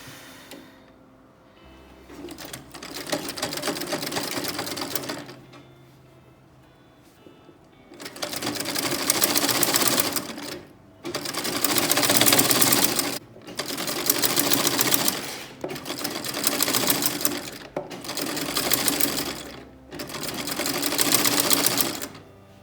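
A sewing machine runs long gathering stitches along skirt fabric in about six steady bursts of rapid whirring, each broken by short quiet pauses, close and clear with no talk.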